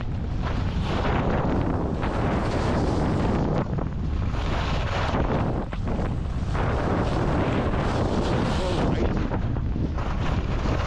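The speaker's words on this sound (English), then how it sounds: "It's kind of snowing and it's pretty windy." Strong wind roars steadily across the microphone during a snowy, stormy day on the ski slopes at Beaver Creek, Colorado, a loud broadband gusting rush with no talk.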